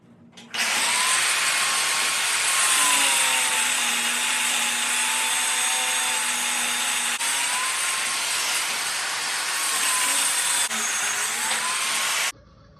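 A power tool cuts through steel rebar in a workshop, a loud continuous high whine and grinding hiss that holds steady for about twelve seconds, its pitch wavering slightly under load before it cuts off abruptly.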